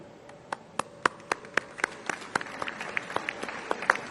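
Scattered applause from a film festival opening ceremony audience at the 52nd International Film Festival of India in Goa: sharp, separate claps from a modest number of hands, loose and uneven in rhythm, thinning slightly toward the end.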